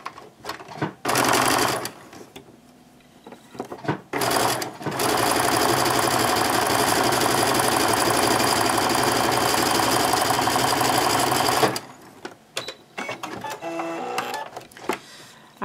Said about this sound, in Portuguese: a gente vai costurar aqui com ponto zigue-zague